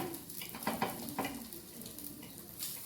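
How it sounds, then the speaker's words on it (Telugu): Egg ponganalu frying in a pan, with a soft steady sizzle and a few scraping taps as they are turned over, quiet and close. "పొంగనాలు ఫ్రై అయిపోయినాయి. 2 పక్కల తిప్పేసుకుందాం."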